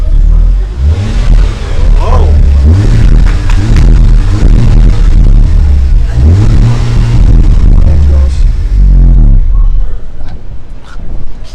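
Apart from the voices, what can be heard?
2017 Honda Civic Type R engine starting and revving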